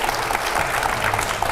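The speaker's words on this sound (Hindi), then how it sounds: "जोरदार तालियां" A live TV studio audience bursts into loud applause, a dense, steady wash of clapping that fills the short moment without a break.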